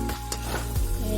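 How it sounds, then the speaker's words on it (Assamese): A frying dish with raw chilli powder being stirred in a pan, a continuous sizzle with a few scraping strokes over the hiss. "এতিয়া লৰাই দিম"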